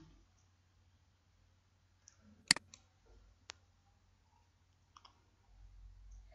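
A few sharp computer mouse clicks while operating ArcGIS mapping software, scattered and close, with one louder double click and a couple of fainter ones over a quiet background hum.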